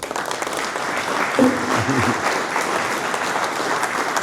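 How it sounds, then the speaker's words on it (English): An audience applauds a speaker being welcomed onstage, steady dense clapping from a sizeable crowd that fills the whole stretch, with a brief voice heard partway through. "please give John a big round of applause"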